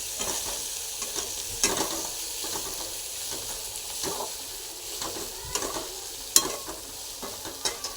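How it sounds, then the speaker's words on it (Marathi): A green chilli, garlic and cumin paste roasts in a hot pan for Marathi brinjal bharit, a steady sizzle punctuated by repeated stirring scrapes and a few sharp clinks of the spoon. "वाटण केलं होतं ते ह्याच्यात टाकायचं आहे हे बघा हे पण छान असं भाजून घ्यायचं आहे"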